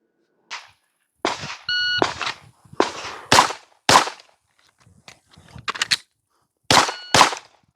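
A pistol fires sharp, loud reports at 15 yards on an outdoor range during a timed shooting stage, with a shot timer beep at the start and bursts of shots separated by a short gap, and more beeps near the end.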